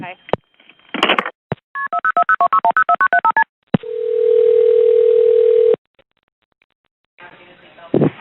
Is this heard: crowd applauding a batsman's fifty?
no